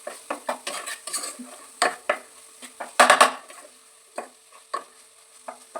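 Spoon scraping and clinking against a pan while masala for dal tadka is stirred, a steady run of sharp metallic taps and scrapes with faint sizzling underneath, close by and with no talking.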